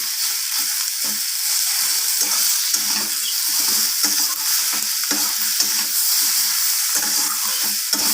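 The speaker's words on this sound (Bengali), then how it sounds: "লবণটা দেওয়ার পর আবারও নাড়াচাড়া করে নিচ্ছি আমি এইভাবে" Vegetables and fish roe being stirred in a frying pan right after salting, a steady, close sizzle with repeated scraping strokes of the spoon throughout.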